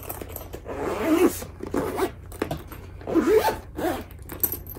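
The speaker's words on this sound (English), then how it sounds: "And it zips perfectly up." A zipper runs along a pencil case, close and crisp, in several rasping pulls of a second or so each, separated by short pauses, with no talking over it.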